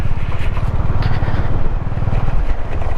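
A motorcycle rolls slowly over a rough, water-cut mountain road between Spiti and Manali, its engine a low, steady, pulsing chug, close and loud, with no talk.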